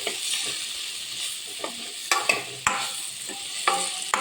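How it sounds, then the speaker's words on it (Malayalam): Potato and capsicum stir-fry sizzling in a pan as a spatula stirs it, with steady frying hiss and a few sharp scraping clicks against the pan, close and with no talking. "ഫ്ലെയിം കുറച്ച് വെക്കാം നന്നായി ഇളക്കി ഒന്ന് അടച്ചു കൊടുക്കാം"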